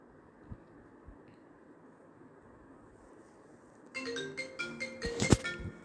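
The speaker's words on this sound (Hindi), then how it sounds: "पता नहीं किसका फोन आ रहा है" A phone ringtone starts partway in, a loud chiming burst of repeating electronic tones over a quiet background during an Among Us game session.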